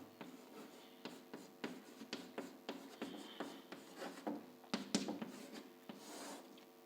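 A pen scratches numbers onto paper by hand, making quick, faint strokes and taps in an uneven rhythm, close and quiet, with no talking.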